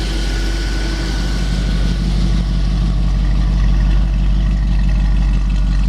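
A 1932 Ford 3 Window Coupe street rod with a tame built motor idles steadily nearby, a continuous low rumble with no voices and no change in pace.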